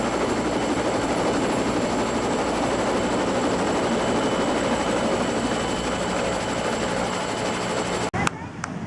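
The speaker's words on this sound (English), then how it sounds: "This jet fighter visited us on our Bahamas cruise on the Carnival Miracle." A jet fighter roars overhead past a Carnival Miracle cruise ship on a Bahamas cruise, a loud, sustained engine rumble and whine that cuts off abruptly near the end.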